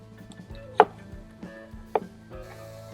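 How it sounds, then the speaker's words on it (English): A knife taps a cutting board a few times at an uneven pace while thinly slicing shallots, with two sharper chops standing out, close and fairly quiet. "All I'm going to do is cut these nice and thin"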